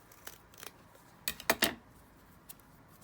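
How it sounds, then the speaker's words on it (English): Scissors cut paper for a junk journal: a few quiet snips early on, then a quick cluster of three crisp, louder cuts, then one last small snip, heard close up with no talking. "So I'm just going to cut this down."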